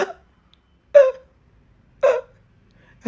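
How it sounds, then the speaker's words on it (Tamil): A voice in an animated Tamil children's episode hiccups three times at an even pace, each short, loud and close, separated by silence. "ஐயோ என்னது இது விக்கல் வர்ற மாதிரி இருக்குது"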